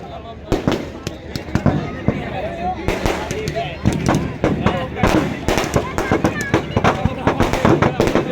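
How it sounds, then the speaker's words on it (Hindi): Firecrackers burst in rapid, irregular volleys inside a burning Ravana effigy at a crowded Dussehra Ramleela, sharp cracks and pops piling up loudly amid crowd noise and nearby voices. "रावण में आवाज आ रही, बम बम बम बम।"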